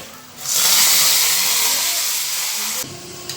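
Milk tea and black tea boil on the stove, a loud, close hissing rush of bubbling that starts abruptly, holds for over two seconds, then drops away.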